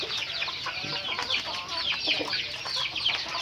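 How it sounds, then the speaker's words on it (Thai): Several young chickens cluck and chatter continuously at close range during evening feeding, a busy overlapping flock sound with no talking. "เย็นๆเลี้ยงไก่ เอาน้ำเอาข้าให้ไก่กินนะครับ"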